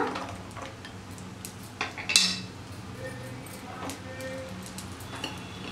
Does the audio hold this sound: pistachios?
yes